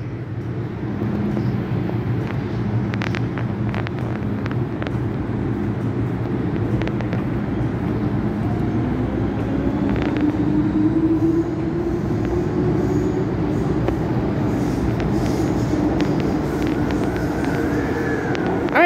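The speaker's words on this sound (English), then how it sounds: "Alright, there goes this train" A Hong Kong metro train pulls out of a station with a sustained low rumble and rolling wheel noise, a faint rising squeal partway through, and scattered clicks over steady platform ambience.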